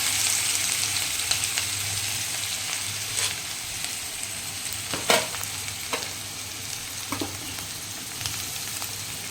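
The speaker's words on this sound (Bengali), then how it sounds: "কড়াইয়ের মধ্যে এখন আমি আদা আর কাঁচা লঙ্কাটা দিয়ে দিলাম" Ginger and green chilli fry in a kadai with a continuous close sizzle, broken by a few sharp spatula clinks and light stirring scrapes.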